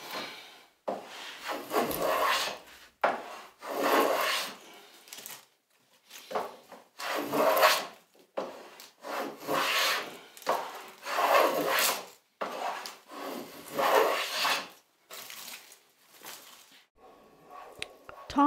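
A rabbet is cut by hand in wood for bullnose trim, heard as repeated rasping back-and-forth strokes in regular bursts with brief pauses between them, close up and moderately loud, with no talking.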